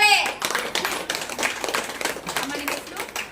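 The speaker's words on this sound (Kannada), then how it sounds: "ಜೋರಾದ ಚಪ್ಪಾಳೆ." Audience breaking into loud clapping at a gathering, a dense burst of many hands close and strong, with voices talking over it.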